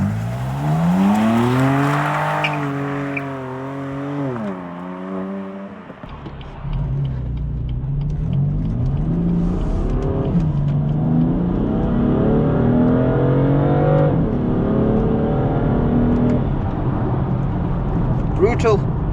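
A Stage 1 tuned BMW M4 accelerating through a tunnel: the engine revs hard and climbs through gears with a booming echo, a short lift-off crackle, then builds again, loud and close, with a voice heard early on.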